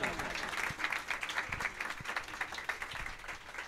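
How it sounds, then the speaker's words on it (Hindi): Applause at a church pastors' appreciation day birthday celebration, a steady crowd clapping throughout with dense irregular claps and a few louder sharp hits, moderately distant. "जोरदार ताली"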